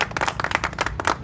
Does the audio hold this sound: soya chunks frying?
no